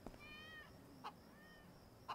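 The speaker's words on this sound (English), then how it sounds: "Did I just hear a cat? That's weird, I thought I just heard a cat." A cat meows in the VR game Viva Project, a drawn-out faint mew followed by two short clicks or pops, quiet and distant with no talking.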